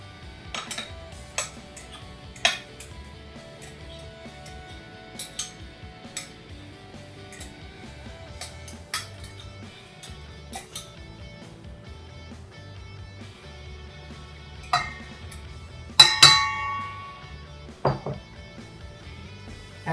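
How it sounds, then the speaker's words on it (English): Utensils clinking against a large bowl as banana is added while mixing banana bread batter, with scattered sharp taps spread through a quiet stretch and a denser cluster of clinks near the end. "Our next step is to add the banana into the large bowl."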